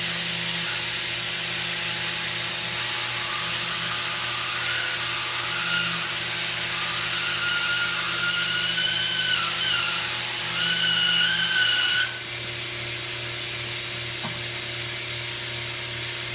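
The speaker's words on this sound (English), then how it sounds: "So I would just go ahead and push the weld button here." A Seamtek seam-tape welder hisses and whines continuously while bonding seam tape, a bright steady tone that cuts off abruptly near the end, leaving a low background hum.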